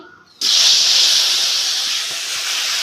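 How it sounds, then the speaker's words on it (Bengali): Okra drops into hot oil for shallow frying, setting off an abrupt, loud, steady sizzle that holds evenly and eases slightly toward the end, close by with no talking. "ঢ্যাঁড়সটা একটু হালকা ভেজে নেব।"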